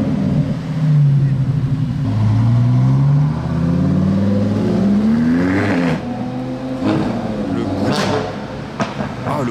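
A red Lamborghini driving in a small convoy revs loudly and close by, its engine pitch swelling and falling in long sweeps before sharper bursts of throttle.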